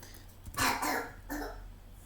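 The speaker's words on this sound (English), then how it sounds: "it's a heck of a cough, bud." A person coughs near the microphone, giving a few rough bursts with throat clearing in between. Quiet room noise sits underneath and no one speaks over it.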